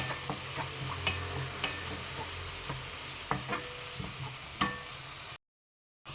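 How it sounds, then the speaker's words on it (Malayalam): Curry leaves and garlic fry in coconut oil with a constant sizzle, while a spoon stirs through them now and then with light knocks against the pan. Everything stops suddenly near the end. "വെളിച്ചെണ്ണയിലേക്ക് കരിവേപ്പില ഇട്ട് വെളുത്തുള്ളി ഇട്ട് നന്നായിട്ടിത് മൂക്കട്ടെ"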